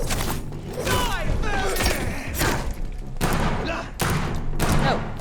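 Rapid bursts of gunfire from the video game Vampyr, loud repeated shots and thuds in several volleys.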